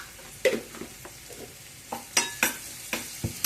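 Ginger garlic paste fries in oil over a medium flame, sharp crackling sizzles and scraping stirs coming in short irregular bursts close by, with no talking.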